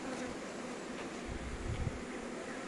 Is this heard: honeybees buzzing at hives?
yes